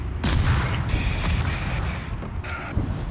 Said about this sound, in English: Torpedo. Yep.